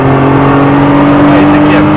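A Nissan GT-R with a 550 hp 3.8-litre V6 accelerating hard on a track, heard from inside as a loud, steady, rising engine drone.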